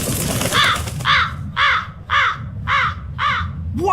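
A crow in the video game Tales of Berseria caws six times in a steady rhythm, each call loud, close and harsh, with no talking.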